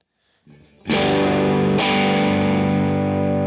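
A heavily distorted electric guitar chord through a UA Dream 65 amp modeler cranked up rings out loud and saturated after a brief quieter pluck, then is struck again and sustains with fuzzy, buzzing overdrive.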